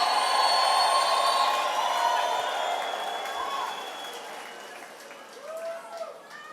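A church congregation at a New Creation Church service shouts, ululates and praises together, a dense crowd roar with high trilling voices that is loud at first and slowly fades, with lighter scattered calls near the end.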